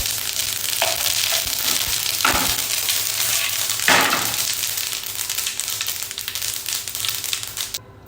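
Steady, crackling sizzle of mustard and sesame seeds frying in hot oil, with a couple of brief scraping stirs partway through; close and continuous until it cuts off.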